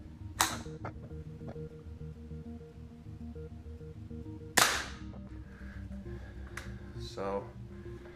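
A suppressed Ruger 10/22 rifle fired inside a garage: two muted, sharp cracks several seconds apart, with bolt clicks and handling noise over a low background hum.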